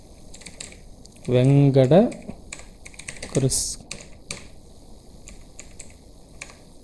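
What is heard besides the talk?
typing on a computer keyboard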